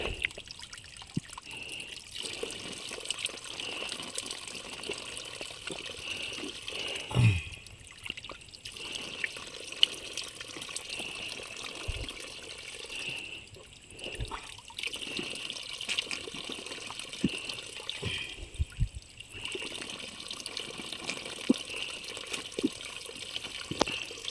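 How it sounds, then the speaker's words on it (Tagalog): Cold water trickles and splashes continuously nearby on a farm, a steady liquid babble with occasional louder gushes and knocks. "Ang lamig ng tubig dito."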